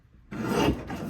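A paper trimmer slices through a small rectangle of plaid scrapbook paper in one short, close rasping stroke, with no talking.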